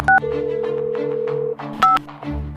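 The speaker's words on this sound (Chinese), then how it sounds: "我拿出手机，当着所有人的面拨通了报警电话。" Mobile phone keypad tones sound as a number is dialed to call the police: two short beeps bracket a long steady tone, with a low hum underneath.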